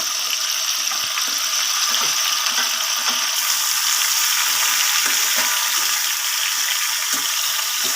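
Tomatoes for a pickle fry in hot oil in a pan, giving a loud, close, continuous sizzle with faint clicks and stirring underneath and no voices.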